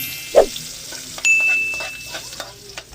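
Garlic dropped into hot oil in a pan for a shrimp dish, a quick burst of sizzling with clinks of a utensil, then softer frying crackle close by.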